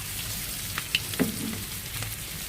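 Eggs frying in a pan as they are flipped, a steady close sizzle broken by a few soft clicks and scrapes of the turner, no voices.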